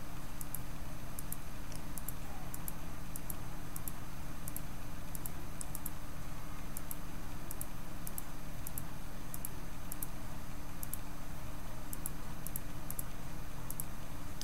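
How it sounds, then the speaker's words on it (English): Faint, regular clicks tap away over a steady background hiss, spaced evenly like a mouse being clicked repeatedly. "And if you hear a mouse clicking,"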